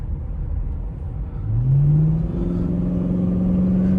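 Chrysler 300C accelerating in traffic: a low engine rumble that rises into a steady, loud revving whine as the car pulls away, close and continuous with no talk.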